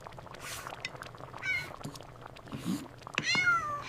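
Cartoon cats meow in a cooking scene, with several short, high, bright mews scattered over light kitchen clatter and background sounds.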